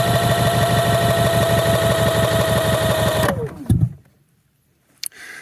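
A Champion 4500-watt remote-start generator runs with a steady, loud, pulsing engine drone that winds down abruptly and stops, followed by near silence and a single brief click.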